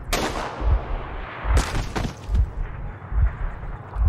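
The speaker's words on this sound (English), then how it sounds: "Oh, they shot us" Gunfire in Metro Exodus in Moscow: several sharp, heavy shots ring out one after another at uneven intervals, loud and close, each with a deep thump and a short echoing tail, with no voices.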